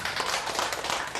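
A church congregation clapping together, a dense, even burst of many hands at close range filling the short moment without any voices.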